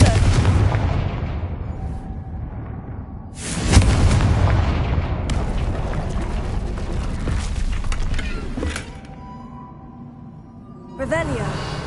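A blasting fire spell from the Hogwarts Legacy video game erupts in a loud, broad boom with a rumbling tail, then a second blast hits near the end, amid voiced game audio and mechanical creaks.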